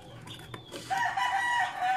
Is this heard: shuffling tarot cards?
no